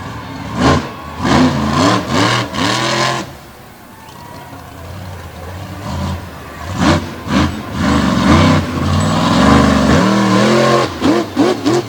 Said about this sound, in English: The motor sounds pretty good now.